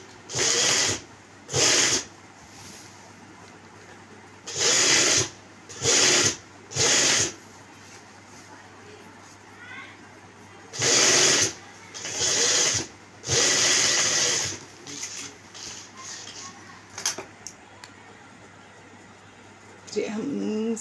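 A sewing machine stitches fabric in repeated bursts of one to two seconds, with pauses between runs, close by and fairly loud. A person speaks quietly in the gaps.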